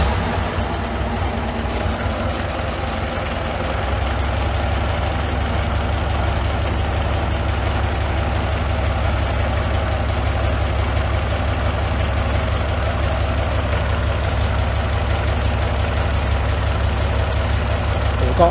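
Riley Brooklands vintage car engine idling steadily after starting, a continuous low rumble with a slight rise in level a few seconds in, close by and alone.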